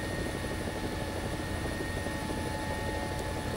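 A helicopter in War Thunder, its rotor and engine making a dense, steady drone and whine that holds at constant loudness throughout, close and continuous with no voices.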